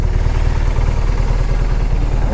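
Steady engine drone from a BMW R1200RT motorcycle while riding, a continuous low throbbing hum with even rhythm and no talking.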